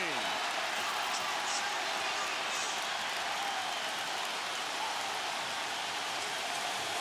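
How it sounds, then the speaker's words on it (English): Sustained roar of a basketball arena crowd at the 2004 NBA Finals Game 5, Lakers at Pistons in Detroit, a dense, even wash of cheering and noise filling the whole stretch with no break. "Crowd roaring."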